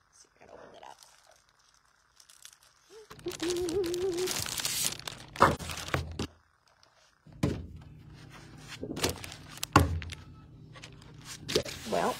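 A wrapped Christmas paper pad is unwrapped with bursts of crinkling and tearing packaging, separated by pauses and a few dull thunks, all close to the microphone.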